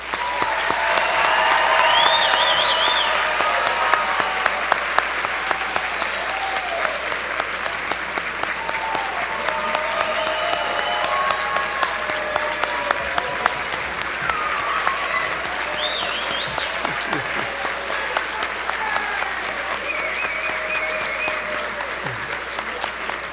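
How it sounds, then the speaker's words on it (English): Sustained applause from a large audience at a Doctor of Physical Therapy white coat ceremony honoring the class of 2023, dense clapping that swells early then holds steady for over twenty seconds, with some cheering and voices mixed in. "round of applause"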